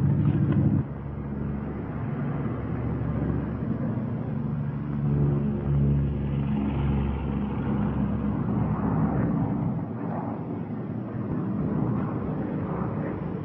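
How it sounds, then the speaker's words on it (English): Lockheed P-38 twin-engine fighter flying with one engine quit, a continuous droning engine roar with wind rush, steady and fairly loud, recorded on an old wartime training film soundtrack. "Hey, one engine's quit."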